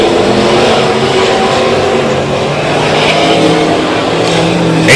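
Southern Sport Modified race cars roar around the track in a dense, continuous wall of engine noise, loud and close throughout with a brief swell near the end.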